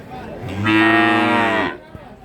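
A Pegon cow at the Jatirogo cattle market gives a single loud, drawn-out moo lasting about a second, close by and rising then holding before it cuts off, with faint market background around it.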